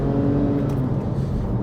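A Porsche 911 997 Carrera 2S engine revs smoothly behind a fairly quiet exhaust, a loud, sustained drone that holds steady close to the microphone.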